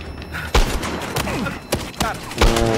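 Loud, sharp Barrett M82 sniper rifle shots in the shooter game Battlefield Hardline, about four booming blasts with short gaps between them over a steady bed of game noise.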